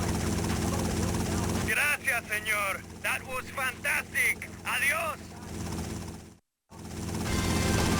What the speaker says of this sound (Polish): zdecydowanie helikopter teraz szybciej lata